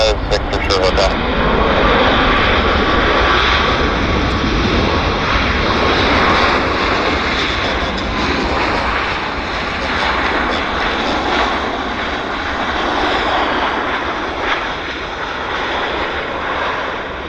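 An airliner at Vancouver airport roars loudly and continuously with a broad engine rumble throughout, while a voice talks over it.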